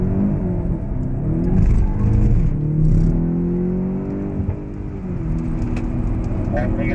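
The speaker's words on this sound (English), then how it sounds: "Make sure you aggressively go to the throttle on the way out." A 2015 BMW X6 M on a race track accelerating out of a corner, its engine roaring loud and steady from inside the cabin while a person talks over it.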